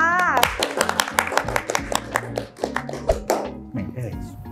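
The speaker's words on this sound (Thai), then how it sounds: "ขอเสียงปรบมือต้อนรับ" A studio audience claps in welcome for a guest, sharp uneven hand claps that thin out toward the end while voices talk over them.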